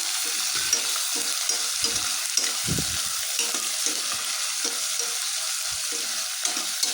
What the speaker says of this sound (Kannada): ಕಟ್ ಮಾಡಿರೋ ಈರುಳ್ಳಿ ಹಾಕಿದ್ದೀನಿ ನಾನು ಈರುಳ್ಳಿ ಹಾಕಿ ಸ್ವಲ್ಪ ಚೆನ್ನಾಗಿ ಮಿಕ್ಸ್ ಮಾಡ್ಕೋಬೇಕು